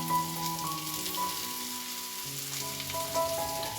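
Mushrooms and garlic frying in a pan give a close, steady sizzle with light crackle for a few seconds. Faint tonal hums sit underneath, and no one speaks.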